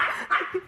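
A dog indoors during a hide-and-seek game lets out two or three short, sharp barks in quick succession, close by and fairly loud.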